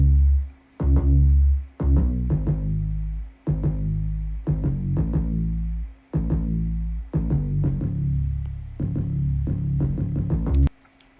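Deep bass melody pattern from the beat for a song, repeating booming low notes in a steady rhythm with brief gaps between phrases, loud and alone.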